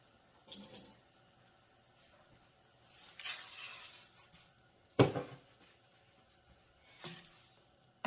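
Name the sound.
water poured into cooking pot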